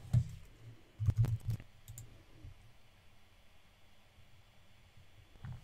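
Mouse clicks while logging in to a WordPress site on a computer: a few short, close, sharp clicks in a quick cluster near the start, then long quiet, with one more soft click at the end.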